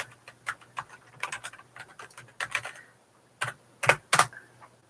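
Close, crisp keystrokes on a computer keyboard come in irregular clusters of quick taps with short pauses between bursts, alone without speech.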